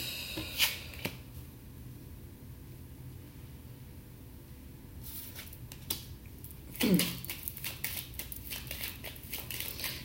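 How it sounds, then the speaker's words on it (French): Tarot cards being placed and handled on a table, a few soft slaps and papery shuffles over quiet room noise, close by and without talk. "je vais placer mes cartes autrement"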